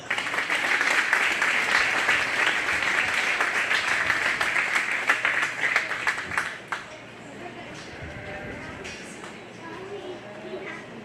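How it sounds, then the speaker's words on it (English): A crowd claps for two exhibitors in the ring at a county fair beef and bucket calf show, a few seconds of steady applause that fades into quieter arena sounds and an announcer's voice. "So let's give these two girls that came in the ring a round of applause."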